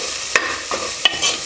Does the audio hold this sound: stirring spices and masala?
yes